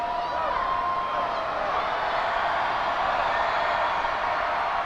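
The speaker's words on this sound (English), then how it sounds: "Crowd making all kinds of noise here at the Beeghly Center." Basketball crowd at the Beeghly Center during a Butler at Youngstown State men's game, a steady loud roar of many voices filling the arena with no break, heard close and continuous.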